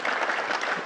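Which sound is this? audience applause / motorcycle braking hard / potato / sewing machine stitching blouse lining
audience applause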